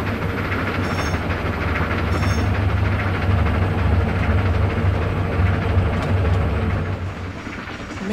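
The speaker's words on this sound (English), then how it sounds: "the train was turned back around and the three engines were making their way back to" Three Southern Pacific GS class steam locomotives head back toward Granbury, giving a loud, continuous low rumble of engines and rolling rail cars that swells and then eases off near the end.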